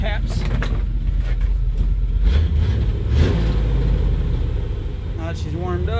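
An old 1989 Chevrolet R30 square body landscape truck has its engine blipped a few times, the revs rising and falling in short bursts over a rough idle, with people talking nearby.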